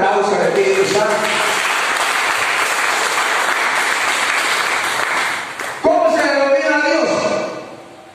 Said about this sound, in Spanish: Den un fuerte aplauso al Espíritu Santo.